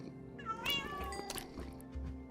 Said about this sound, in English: We want to breed the cats.